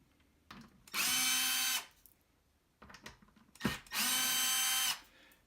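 A power drill bores into the particle board back plate of a Recroom Masters Pro Edition controller in two loud, steady whirring bursts of about a second each, separated by quieter handling clicks and rustles.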